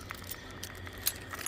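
Keys jangling briefly during preparations before a day's ride on a 2024 BMW R18B 719 motorcycle, a few light metallic jingles close by, with one sharper clink near the end, no talk.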